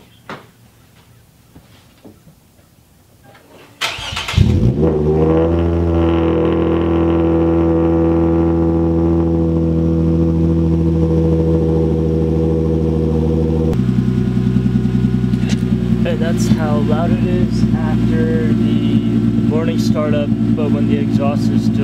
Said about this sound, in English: normally when the car starts up outside the garage, it's slightly quieter than when it's in the garage.